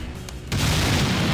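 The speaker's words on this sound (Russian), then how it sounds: "А что он взрывает такое мощное?" A powerful explosion in the Garry's Mod video game, a sudden loud boom that swells into a sustained roaring rumble partway through.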